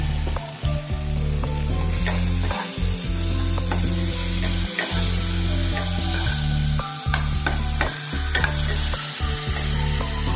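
Red chili or Kashmiri chili powder and ginger-garlic paste fry in a pan for chili fish, with a loud continuous sizzle and repeated scraping stirs of a spatula close by, no voices.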